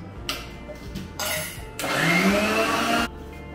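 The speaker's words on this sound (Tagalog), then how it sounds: "Tatakpan ulit natin, then we'll be blending it again." A kitchen blender grinding green chili in India, switched on in short bursts and then a longer whirring run of about a second and a half before cutting off, close and fairly loud.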